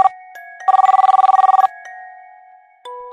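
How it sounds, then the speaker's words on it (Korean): A telephone rings in a quiet room with an electronic ringtone: a steady tone, then a fast burst of warbling rings lasting about a second, then steady tones again. It is loud and close, with no one talking. "전화가 걸려왔다."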